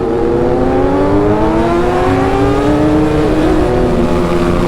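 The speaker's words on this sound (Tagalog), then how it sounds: "Ang lakas ng raider oh." A Suzuki Raider 150 motorcycle revs hard while racing a big bike, a loud sustained engine whine sweeping through gear changes against heavy rushing wind, close and continuous throughout.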